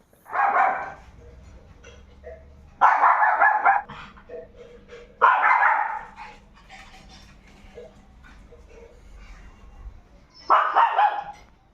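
A German Shepherd barks in four separate bursts spaced a couple of seconds apart, loud and close, with a low steady background hum between barks.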